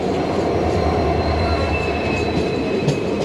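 A passenger train at Kacheguda station gives a steady, loud rolling rumble of wheels and carriages, with faint high wheel squeal running through it and no voices.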